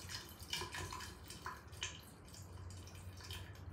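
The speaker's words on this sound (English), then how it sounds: "Let's just pour it down the drain." Prime sports drink poured from a bottle down a sink drain, a soft continuous splashing and trickling with a few brighter splats, steady and close throughout.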